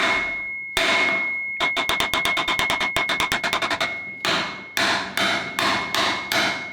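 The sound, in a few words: hammer striking metal axle bolt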